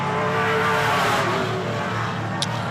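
A race car laps Hythe Motor Speedway during time trials, running high in the second groove, its engine a steady loud roar throughout with no voices.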